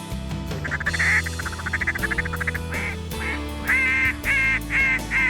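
Ducks quacking over a cornfield on the Snake River, a run of rapid nasal calls followed by several louder drawn-out honking quacks, close and clear with no talking.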